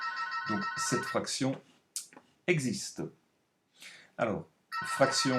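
A mobile phone ringtone plays in tonal bursts at the start and end, partly masked by someone speaking steadily during a maths lecture.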